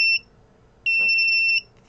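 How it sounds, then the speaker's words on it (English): An Arduino piezo buzzer alarm set off by a photo interrupter sensor gives two shrill electronic beeps, a short one followed by a longer tone lasting under a second, loud and close with quiet between. "pretty nifty little alarm if you want to set off an alarm in your safe home if a window is opened"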